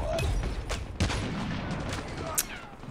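Gunfire in the mobile shooter Call of Duty Mobile, several sharp shots scattered across a few seconds at moderate level, with a voice speaking over the match.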